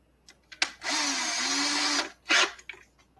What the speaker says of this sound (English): changing drill bits